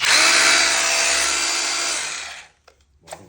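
A Makita rotary hammer drill whines loudly and steadily for about two and a half seconds, then cuts off, followed by a couple of faint clicks and handling noises.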